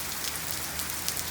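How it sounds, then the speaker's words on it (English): Steady rain comes down over a garden planted with rain lilies, a constant close broadband hiss with no talk, scattered brighter drops rising briefly above the wash. "We are really getting some rain coming down"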